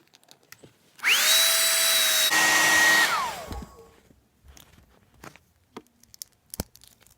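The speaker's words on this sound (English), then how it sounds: "We're going to heat these arms up and put them back on the Sandow before I forget." A heat tool blows hot air on a wrestling action figure's arms for about two seconds, loud and close, its pitch dropping as it powers down, with faint handling noises after.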